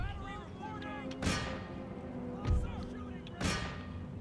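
Line infantry musket volleys in the Empire Total War video game, three sharp cracking bursts spaced about a second apart over a background of battle noise and faint tonal sounds.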